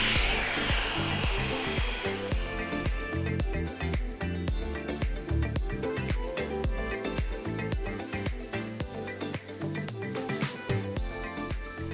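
A hair dryer runs on high heat for the whole stretch, a loud, steady blowing roar close by, with a rhythmic, beat-like pattern layered over it.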